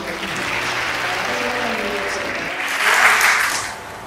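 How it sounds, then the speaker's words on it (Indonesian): A church congregation at a prayer service breaks into applause, a steady round of clapping that swells briefly toward the end before fading. "Tepuk tangan."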